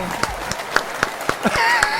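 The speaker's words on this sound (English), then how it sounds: "He's used to the applause" A talk show audience claps to welcome a dancer and choreographer, with scattered sharp claps spread across a short burst and a voice calling out over them.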